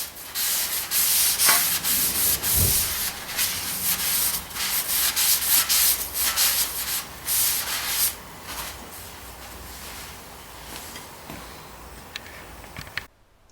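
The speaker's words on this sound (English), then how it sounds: "just wipe it off with the brake cleaner." A rag wipes dirt and grease off a rear brake disc on a Skoda Superb with an electronic parking brake, using brake cleaner. Close, continuous scrubbing and rubbing strokes run for about twelve seconds and then stop abruptly.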